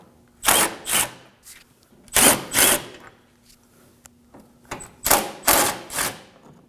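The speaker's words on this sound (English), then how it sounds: "we're going to be removing these 4 10mm bolts" Bursts of a power tool spin out 10mm bolts from the front of a 2014-2020 Acura MDX during radiator replacement, four loud close whirring runs separated by quiet pauses.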